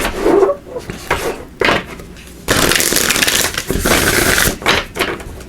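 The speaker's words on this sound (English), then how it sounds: "Give these a good shuffle." A tarot card deck being shuffled by hand, with bursts of riffling and flapping cards, first in short separate bursts, then a longer continuous stretch, loud and close with no talk.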